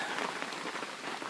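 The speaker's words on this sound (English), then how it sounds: "looks like the rain is finally letting up" Steady, dense rainfall pours down close by during an off-grid cabin build near a smoky fireside, a constant broadband hiss with no talking.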